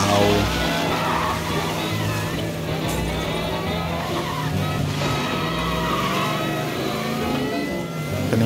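A car in Mafia: Definitive Edition driving in repeated circles, the engine revving loud and constant with tire skids and shifting pitch, some speech faintly beneath.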